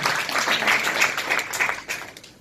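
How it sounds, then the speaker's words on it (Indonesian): Applause from an audience at a marketing event: many hands clap in a brisk, dense burst that stays loud before starting to taper off near the end. "Tepuk tangan untuk Bapak Fadli ya."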